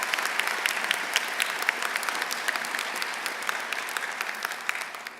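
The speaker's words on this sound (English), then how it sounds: "Let's give them both a round of applause." Steady audience applause at a spring university commencement ceremony, a dense, even wash of many hands clapping from a large crowd, with brief sharper claps standing out and a slight fade at the end.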